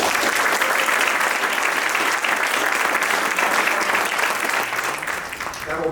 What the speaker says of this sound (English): massive round of applause to Brian